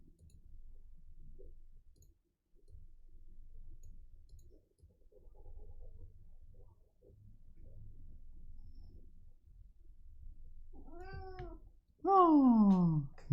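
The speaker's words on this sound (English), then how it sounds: "Oh, my cat is here, wants to talk." A pet cat meows twice near the end, loud and close, with rising and falling harmonic calls that follow a long stretch of low background rumble.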